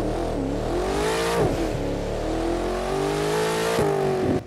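A Maserati Alfieri Concept engine in the video game The Crew 2 revs and drones steadily, its exhaust pitch rising and falling with a throaty, continuous tone, close and loud.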